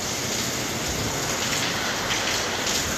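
Steady heavy rain pours on a residential stairwell and street in India, a loud continuous hiss and patter with no gaps.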